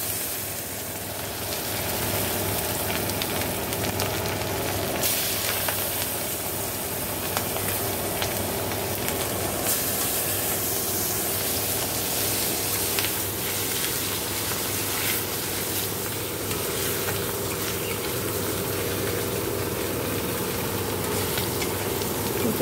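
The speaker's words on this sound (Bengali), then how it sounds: "চলো মাছগুলো ভেজে নিই।" Prawns frying in hot oil in a wok give a steady, loud, continuous sizzle that holds evenly for the whole stretch without a break.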